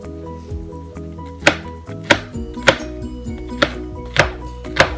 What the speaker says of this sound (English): I'm gonna also dice this into small pieces.